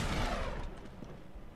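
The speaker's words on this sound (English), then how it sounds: "Ooh, nice grenade." A grenade blast in Uncharted 3 opens loud and broad, then rumbles and decays into a faint tail over about a second and a half.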